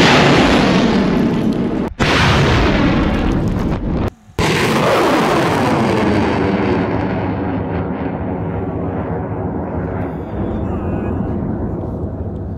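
A suborbital space rocket lifts off with a loud, sustained roaring motor burn, a sharp crackling blast at ignition followed by a continuous rumbling roar that slowly softens as it climbs away.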